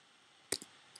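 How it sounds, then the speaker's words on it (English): A Minecraft dispenser fires in the video game, giving a quick close double click followed by a fainter tick, all very quiet against a near-silent background. "That's the sound of the dispenser shooting."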